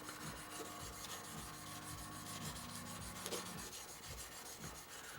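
Hand sanding of a Spyderco Manix 2 XL Cruwear knife with worn sandpaper to remove scratch marks, a close, quiet, continuous rasping rub with repeated back-and-forth strokes.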